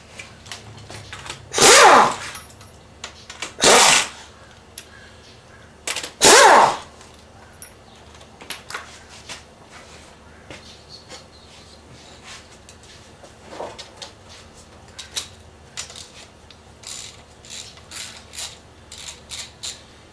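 A ratchet on intake manifold bolts of a Chevy big-block 454 engine during teardown, with three loud bursts of rapid ratcheting clicks early on, then scattered quieter clicks and taps, no speech.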